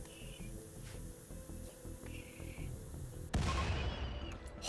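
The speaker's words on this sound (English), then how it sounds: "That explosion was so intense." A power cell explodes in the RimWorld video game with a sudden loud blast and a harsh crackling roar. It follows a stretch of quieter game sounds with faint clicks and tones.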